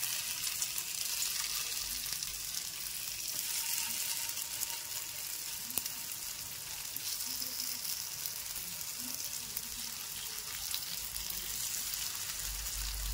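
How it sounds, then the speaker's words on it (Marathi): Vegetable pieces dropped a few at a time into hot oil and fried, producing a constant close hiss and crackle of sizzling with small pops scattered throughout. "अशा पद्धतीने आपण थोडं थोडं करून त्याला फ्राय करून घ्यायचं आहे"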